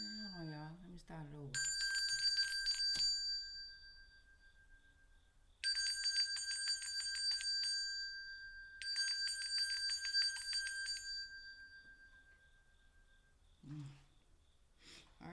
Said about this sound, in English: Okay, so we done got the bell rung.